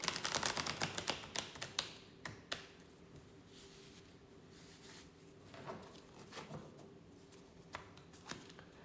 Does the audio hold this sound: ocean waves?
no